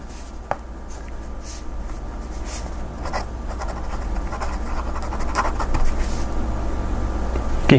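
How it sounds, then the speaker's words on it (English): A Cross Peerless fountain pen nib scratches steadily across notebook paper, a close, continuous soft scraping with small strokes and pauses, with quiet background noise and no talking. "You hear the nib against the notebook."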